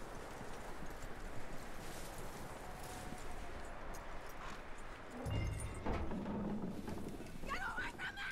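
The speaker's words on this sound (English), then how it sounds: "That looks like a decent horse." Horse hooves clip-clop steadily on the ground in Red Dead Redemption 2, a continuous mid-distance trot mixed with game ambience and voices talking over it.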